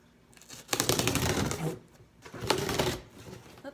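A mailed package holding a new tripod is opened, with two bursts of crinkly tearing and rustling of packaging material, close and moderately loud, separated by a short quiet gap.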